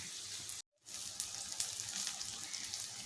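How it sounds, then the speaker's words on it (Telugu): A glass of water pours into a prawn and drumstick curry in a pot as a steady close rush, broken by a short pause before the flow resumes; no one speaks. "ఇందులో 1 గ్లాసు నీళ్ళు పోసుకోవాలి."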